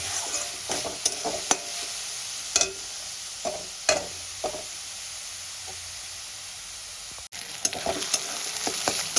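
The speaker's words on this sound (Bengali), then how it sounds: "এরকম লাল করে আমি ভেজে নেব।" Onions frying with salt in a pan until reddish-brown for dhaba-style pav bhaji masala give a continuous close sizzle, broken by irregular sharp spatula scrapes and clacks and one brief dropout.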